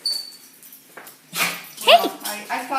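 Dog whimpering and yipping in short bursts close by, mixed in with people talking over it.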